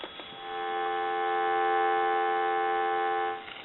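A steady telephone dial tone comes through a Western Electric 500 rotary desk telephone under repair, one continuous, even hum lasting a few seconds and then stopping, with no talk over it.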